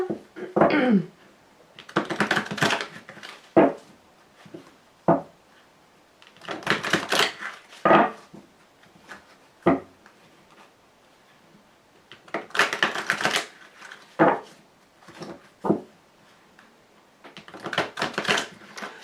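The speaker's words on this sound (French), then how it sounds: "Allez, on va mélanger les cartes." A deck of tarot cards is shuffled by hand in repeated bursts, each a quick riffle or flutter of card slaps separated by brief pauses, close and fairly loud, with no voices.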